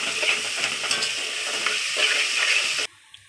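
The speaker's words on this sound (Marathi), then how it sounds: "दोन तीन चमच पेस्ट अद्रक लसूण हिरवी मिरची हे कांद्याबरोबर भाजून घ्यायचं" Ginger, garlic and green chilli paste fries with onion in a pan for egg dum biryani, a bright continuous sizzle with repeated spatula scrapes, then it cuts off abruptly near the end, without speech.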